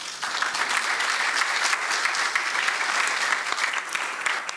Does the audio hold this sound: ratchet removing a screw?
no